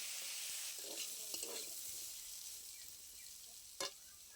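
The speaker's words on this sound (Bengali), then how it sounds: "ভেজানো ছোলা আলুর মধ্যে দিয়ে খুব ভালো করে ভেজে নেব।" Potatoes and soaked chickpeas fry in a pan with spices, a quiet, steady sizzle broken by occasional scraping stirs and one sharper clatter near the end.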